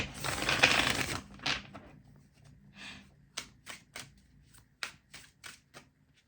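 Tarot card deck shuffled by hand: a dense riffling burst in the first second, then a short series of separate crisp card snaps and flicks at irregular intervals, close and fairly quiet, with no talking.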